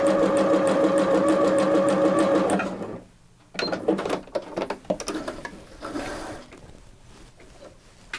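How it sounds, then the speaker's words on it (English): Sewing machine stitching zigzag, a steady close mechanical whir that runs for a few seconds, stops, then gives way to short clicks and handling knocks. "drop the foot down, drop the needle down, and do some zigzag"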